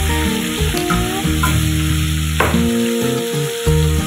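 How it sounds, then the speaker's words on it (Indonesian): Steady, loud sizzling and crackling of tempeh frying in hot oil, continuous throughout, with soft background music underneath. "kita masak sampai matang seperti teman-teman menggoreng tempe pada umumnya"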